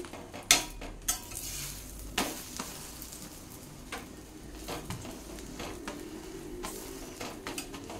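A stuffed aloo paratha fries in plenty of oil on a pan, giving a low steady sizzle broken by sharp clacks and scrapes as a spatula presses and turns it.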